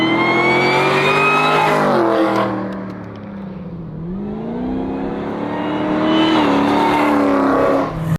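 A supercharged LT4 V8 in a 1970 Oldsmobile 442 revs hard and loud, climbing in pitch, dropping back to a low idle burble midway, then surging up again, with no talk over it.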